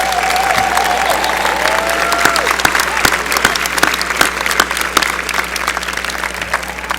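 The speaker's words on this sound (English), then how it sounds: "Let's give them a round of applause." Commencement audience applauding graduates, dense continuous clapping from a large crowd filling the hall at steady loudness, with a few sharper nearby claps standing out and a faint voice briefly heard early on.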